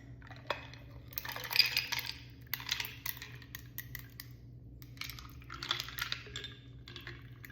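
A spoon stirs a hibiscus, watermelon and pineapple refresher in a glass, giving intermittent clinking and scraping bursts up close, with short quiet gaps between strokes.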